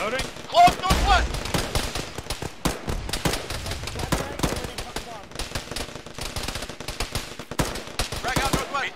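Bursts of machine-gun and rifle fire in the military game ArmA, sharp repeated shots near and far with scattered heavier booms, under tactical radio chatter between players.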